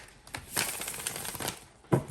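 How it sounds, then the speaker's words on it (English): Tarot cards are shuffled up close in a quick riffling burst of papery flicks lasting about a second, followed by a single sharper slap. "So we're shuffling the before tarot,"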